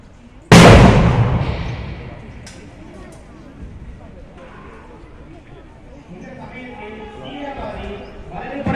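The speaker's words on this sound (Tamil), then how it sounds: "கையெறி குண்டை ஸ்டன் கிரனேடில் வீசி வெடிக்க செய்கிறார்கள்" A single sharp, loud stun grenade blast goes off up close during a mock terrorist-attack demonstration at an army expo in Coimbatore, Tamil Nadu, its roar tailing off over a couple of seconds before muffled voices and commotion follow.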